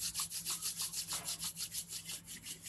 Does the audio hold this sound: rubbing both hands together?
yes